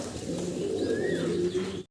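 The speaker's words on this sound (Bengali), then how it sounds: "সবগুলা খামারের ফোস্টার কবুতর।" Foster pigeons on a farm coo softly and continuously, with a faint chirp in the middle and no voices.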